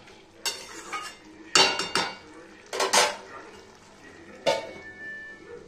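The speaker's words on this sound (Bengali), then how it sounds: "এবার আমি এটাকে ঢেকে রাখবো।" A cooking pot of vegetable curry with a little water added is covered with its lid: a handful of loud metallic clanks and scrapes, a couple doubled, standing out over a quiet kitchen background.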